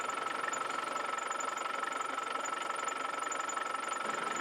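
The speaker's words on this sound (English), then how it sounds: "let's run the vehicle up so it's nice and warm now" A Land Rover engine runs steadily in a workshop while warming up after its cooling system was filled with prep fluid, giving an even, continuous drone with no talking over it.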